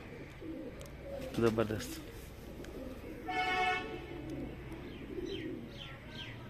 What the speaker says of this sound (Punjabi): ਇਹ ਗੋਲਡਨ ਕਬੂਤਰ ਅੱਛਾ ਮਾਸ਼ਾਅੱਲਾ ਗੋਲਡਨ ਕਬੂਤਰ ਹੈ